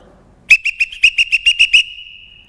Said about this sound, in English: the referee blows the whistles